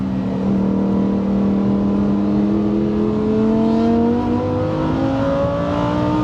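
A Lamborghini STO on the Nürburgring circuit revs hard and close, its engine pitch climbing in long sweeps and holding a loud, steady howl throughout.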